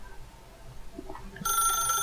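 Telephone ringing in the video game The Stanley Parable, a bright electronic ring bursting in suddenly near the end after quiet, faint sounds, loud and close.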